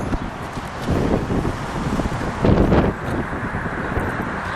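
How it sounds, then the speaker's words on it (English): Wind buffets the microphone in low rumbling gusts, swelling louder around the middle, with faint outdoor noise and no speech. "It's a little windy out here, so if you're getting a little breeze across the camera"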